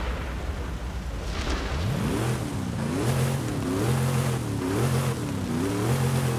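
A Buick GSX muscle car in Forza Horizon 5 revs repeatedly, its engine note sweeping up and falling back in rhythmic surges over a loud rumbling idle, close and without talk.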